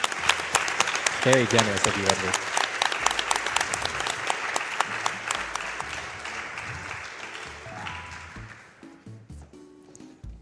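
A crowd-applause sound effect played to acknowledge a donation: dense, steady clapping that swells early, then thins and fades out over the last few seconds, with a voice speaking over it.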